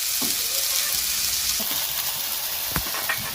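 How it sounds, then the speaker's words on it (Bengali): Small diced potatoes fry in hot oil in a pan for a red spinach dish, a steady close sizzle with a few light stirring knocks. "আলু ভালো করে ভেজে নেবো"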